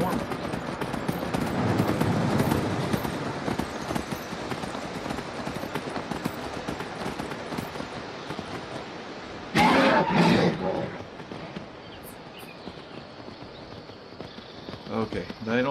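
Steady hoof clip-clop from a horse moving along in Skyrim, continuous under loud rumbling ambience, with a brief louder burst partway through.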